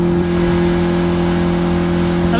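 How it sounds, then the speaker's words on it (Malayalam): A speed boat engine at Kakkayam Dam drones steadily and loudly at close range, a constant low motor hum with no talk over it, rising slightly in pitch at the very end. "കക്കയം ഡാമിലെ സ്പീഡ് ബോട്ട് എക്സ്പീരിയൻസ് ചെയ്യാൻ പോവാണ്"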